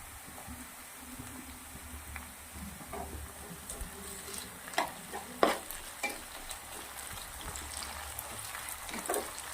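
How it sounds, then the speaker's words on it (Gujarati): Sliced onions sautéing with ginger-garlic paste in a pan for vegetable soya bhurji, a soft steady sizzle broken by occasional louder spoon scrapes and stirs. "આદુ લસણની પેસ્ટ નાખ્યા પછી 2 થી 3 મિનિટ સુધી આપણે આવી રીતે ડુંગળીને સાંતળી લેવાની છે."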